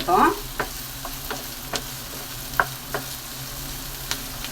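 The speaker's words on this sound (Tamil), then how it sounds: "வெங்காயம் போட்டாச்சுப்பா நல்லா வதக்கிடுவோம்" Onions sauté in a pan for a paneer gravy, a steady close sizzle with intermittent clinks and scrapes of stirring, and no clear talking.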